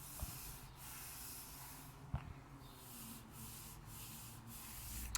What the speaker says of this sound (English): I'm doing it with water because my sandpaper is getting clogged up.